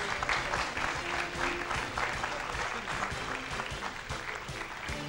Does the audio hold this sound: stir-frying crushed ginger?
no